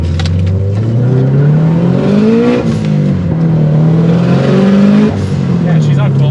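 A turbocharged E85 Scion FR-S accelerates hard from inside the cabin, its loud engine note rising and falling through gear changes with a brief dip where the clutch slips, with voices talking over it.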